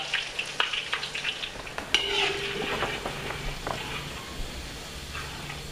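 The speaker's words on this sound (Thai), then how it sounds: "ส่วนใครไม่มีพิมพ์ก็สามารถตักลงไปทอดได้เลยนะครับ" Batter for a Thai pork-leg-shaped snack (kanom kha mu) sizzles and crackles steadily as it fries in hot oil, with a few clinks of a utensil against the pan and no talking.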